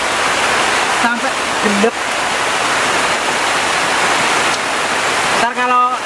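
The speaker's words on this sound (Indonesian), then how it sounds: "ini hujannya deres banget" Heavy rain pours down in a steady, dense roar while hunting monitor lizards outdoors, filling the whole stretch, with a few brief voices speaking over it.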